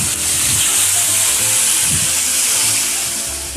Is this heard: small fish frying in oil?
yes